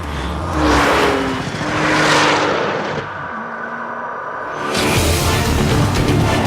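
Porsche 997 GT2 with its 3.6-liter twin-turbo boxer six-cylinder engine, heard as a loud, close car engine swelling and revving in waves, easing off briefly and then surging again.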